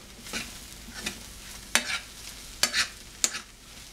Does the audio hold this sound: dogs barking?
no